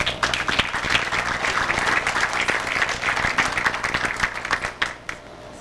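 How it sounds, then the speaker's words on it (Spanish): An audience at an economics conference on globalization in a Lima hotel applauds steadily, dense sustained clapping from a sizable crowd that fades out at the end. "Un aplauso, por favor."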